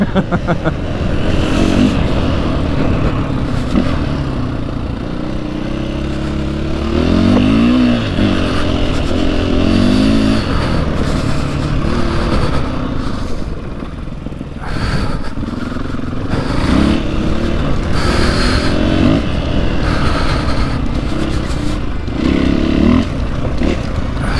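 A Husqvarna 501 FE dirt motorcycle ridden on an Oregon trail, its engine loud and close throughout, revving and easing through gear changes, with wind rumble and occasional scrapes.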